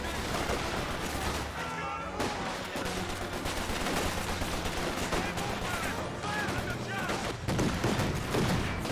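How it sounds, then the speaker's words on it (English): A Bren squad in Company of Heroes 2 firing away amid constant battlefield gunfire, with crackling shots and bursts layered under a commentator's talk. "Intersection and Bren squad firing away."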